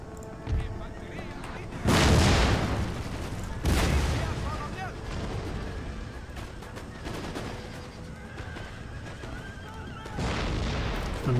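Militia musket volleys crack out in Empire Total War, several loud booming bursts spaced a couple of seconds apart over battlefield din, with someone talking across the clip.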